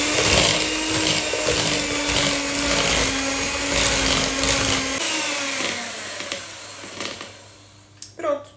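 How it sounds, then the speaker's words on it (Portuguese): An electric stand mixer runs at its lowest speed, mixing flour into dough for Portuguese peanut tile cookies. Its steady whirring motor hum runs loud for about five seconds, then cuts out, leaving quieter handling noises and a voice. "esta batedeira, mesmo na velocidade mais baixa, ela é assim"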